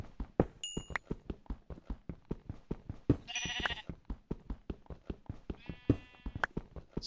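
Repeated Minecraft sheep bleats sound over a steady rhythm of soft thumping steps, with a few bright chiming game effects in between.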